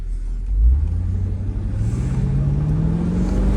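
A 2004 Mercedes-Benz S55 AMG W220 engine rumbles close by and revs up, its pitch rising steadily as the car accelerates under a low, continuous roar.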